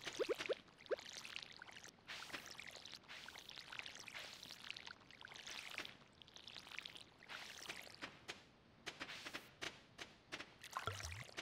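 Crops being watered in the farming video game Strawdew. Repeated short pouring and trickling splashes come in bursts with brief gaps, at moderate volume, and no one talks.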